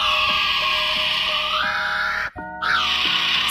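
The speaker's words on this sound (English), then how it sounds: "Kiwi bird." Kiwi bird giving a long, loud, continuous wailing whistle that breaks off briefly and then resumes, close and alone, sounding almost human.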